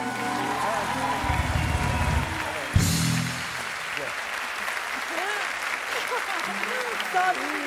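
A television show audience applauds steadily at moderate volume, with voices mixed in and a brief louder burst partway through.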